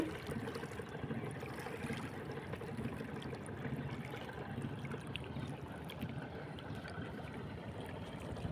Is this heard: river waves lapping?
yes